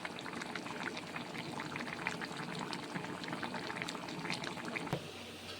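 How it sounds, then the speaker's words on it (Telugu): Water boils in a pot for chicken dum biryani with a steady, dense bubbling and gurgling. A single short knock near the end could be a lid. "ఇప్పుడు మూత వేసుకొని ఎసరు వచ్చింది కదా"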